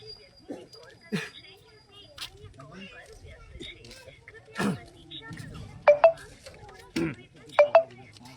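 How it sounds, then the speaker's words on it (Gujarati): A phone call to an official rings on the line with two short pairs of electronic tones near the end, heard over outdoor background noise with voices and a faint dog nearby. "આપણે જવાબદાર અધિકારીને ફોન પણ કરીએ છીએ, જોઈએ એનો જવાબ શું મળે છે."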